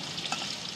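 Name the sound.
fish frying in oil in a pan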